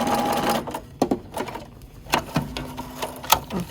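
Sewing machine stitching quilt binding at a mitered corner, short bursts of whirring needle action broken by pauses and clicks, close up.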